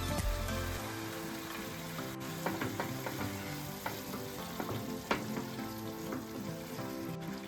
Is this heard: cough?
no